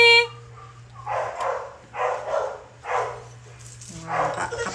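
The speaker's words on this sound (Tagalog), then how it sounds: "Yung kapitbahay namin, yung aso nila, napakasinger." A neighbour's dog barks in four or five bursts spaced about a second apart. The barks are loud and moderately close, with a faint steady hum behind them.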